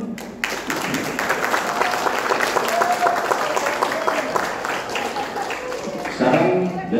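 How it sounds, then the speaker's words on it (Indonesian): Sustained applause from a seated audience at a fire disaster management lecture and simulation, steady clapping through the whole stretch with a brief louder swell near the end. "Mau tepuk tangan dulu."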